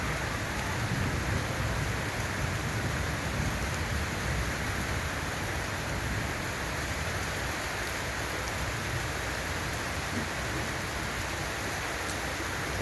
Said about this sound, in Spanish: Se vino la lluvia, mi gente.